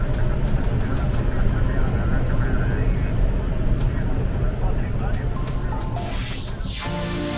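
An Airbus H-125 helicopter arrives in a forest on an emergency call, its engine and rotor making a steady, loud, dense roar throughout, with a sweeping whoosh late in the sound.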